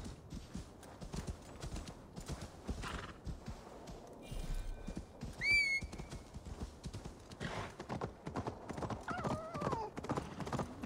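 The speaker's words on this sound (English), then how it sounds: "Come here, horse." Horse hooves clip-clop over ground in Assassin's Creed Valhalla, a steady run of soft mid-level steps with a short whinny partway through, set among ambient game sounds and occasional faint bird-like calls.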